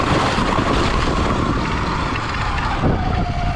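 Sur Ron X electric dirt bike riding across ice, a steady loud whirring drive noise with wind and tire rumble that holds constant, then eases slightly near the end.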